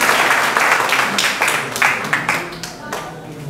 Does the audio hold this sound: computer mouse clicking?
no